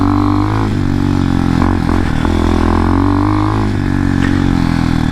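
An X-Pro Hawk DLX 250 motorcycle ridden on dirt trails, its engine droning loud and steady with slight shifts in pitch as the throttle varies, heard up close throughout.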